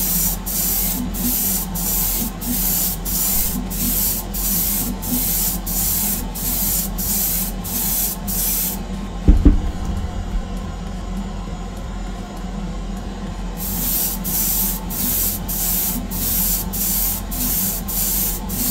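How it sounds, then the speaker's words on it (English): An airbrush sprays a paint base coat onto Greek-style vases in a steady loud hiss, pulsing in regular bursts, stopping briefly midway with a soft knock, then resuming the same rhythmic spraying. "So this is actually either spraying more paint or spraying it thicker than the big airbrush."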